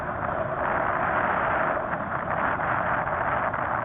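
A steady, continuous motorcycle engine drone with a rough, noisy hum, holding even in loudness throughout with no talking.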